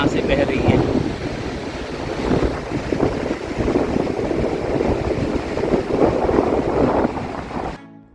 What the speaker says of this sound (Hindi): काली नदी बहुत ही तेज वेग के साथ यहाँ से बह रही है।